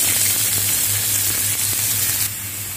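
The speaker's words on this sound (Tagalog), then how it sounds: "i-fry natin yung onion and garlic dito pa rin sa pinag-lutuan ko ng" Onion and garlic frying in leftover bacon fat in a pan, a loud, steady close sizzle with a few faint stirring touches, easing slightly near the end, no talk.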